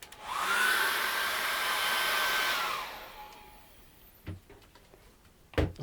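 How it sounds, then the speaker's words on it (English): A hair dryer blows over an acrylic painting with a steady rushing whir for a few seconds, then switches off, leaving faint taps and handling noises. "I want to run the hairdryer over this."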